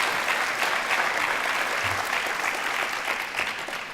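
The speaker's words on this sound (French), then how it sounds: "il faudra les applaudir très fort" A theatre audience at a science-communication contest claps for a company of performers, steady, dense applause at close range throughout, with no voices over it.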